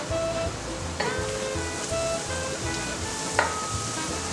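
Purple and red carrots frying in a pan, a steady close sizzle with occasional stirring clinks and scrapes, no voices.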